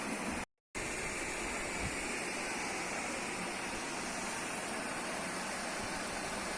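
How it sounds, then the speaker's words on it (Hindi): A waterfall in the remote forest of Saranda, India, heard as a steady broadband rush that continues unbroken apart from one brief dropout near the start, with no one speaking. "झरने की आवाज़ आ रहा है"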